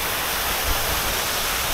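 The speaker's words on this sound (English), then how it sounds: "they have a few little waterfalls here which are quite nice" Small waterfalls on an industrial estate give a steady, broad, even rush of falling water, close and continuous with no talking.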